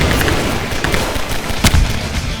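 Bombing explosions in a military video game burst as a dense, continuous roar of booms and crackling blasts, with one louder thump standing out near the end.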